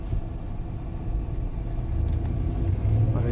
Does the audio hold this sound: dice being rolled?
no